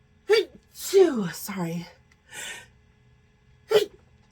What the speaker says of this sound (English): I had a sneezing fit.